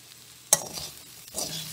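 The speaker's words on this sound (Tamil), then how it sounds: "பீன்ஸையும் பருப்பையும் நல்லா இப்போ மிக்ஸ் பண்ணி வேண்டியது." Beans and lentil usili being stirred in a pan: a sharp spatula scrape, then softer sizzling and a second stirring scrape, close and faint, with no talk.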